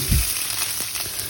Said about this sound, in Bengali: আমি প্যানে একটু তেল দিয়ে দিলাম এখন একটু পাঁচফোড়ন দিয়ে দিলাম পাঁচফোড়নটা যখন একটু গরম হয়ে ফুটে যাবে তারপর এর মধ্যে আমি এই যে পেঁয়াজ দিয়ে দিলাম